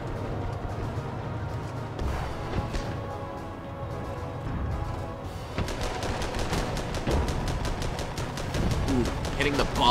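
A tank crew's gun fires in Armored Battle Crew, first sparse shots and then a fast, regular burst of repeated rounds that grows louder toward the end, with talk underneath.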